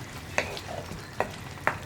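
A spoon stirs onion curry with roasted ground cumin in a pan, making three distinct scraping strokes over a soft, steady sizzle, close and with no talking.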